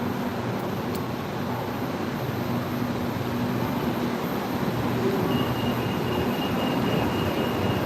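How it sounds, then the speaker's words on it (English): An elevated train in Bangkok rumbles past overhead, a steady, loud broadband roar that holds throughout amid city background noise. "There goes the train. So this is actually really nice, the elevated train"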